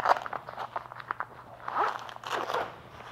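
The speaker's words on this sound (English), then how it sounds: "go ahead and pop that front zipper open" Front zipper of a motorcycle jacket being opened, a series of close, scratchy zipping rasps in two bursts with no one talking.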